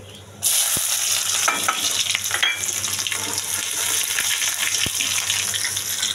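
Chopped garlic goes into hot oil already holding bay leaf pieces and nigella seeds, setting off a sudden loud, steady sizzle with crackling and occasional utensil taps throughout.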